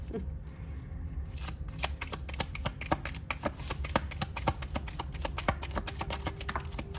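Cards being shuffled close up, a continuous rapid riffling with crisp snaps that keeps going steadily the whole time.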